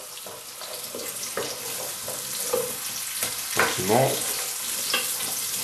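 Onion, carrot and garlic sautéing in a pan for a crayfish bisque, a steady close sizzle with occasional stirring knocks and a short spoken word partway through.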